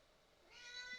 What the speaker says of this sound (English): That's my cat telling me that he's hungry now.